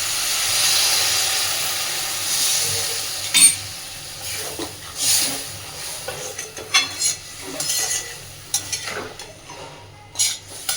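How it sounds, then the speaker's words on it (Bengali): Water splashed into a hot pan of cauliflower and potato chochchori with mustard paste and green chilli, giving a steady hiss and sizzle with occasional stirring clinks and scrapes, close and moderately loud. "মশলা মিক্সির বাটিটা ধুয়ে আমি দিয়ে দিচ্ছি অল্প একটু জল"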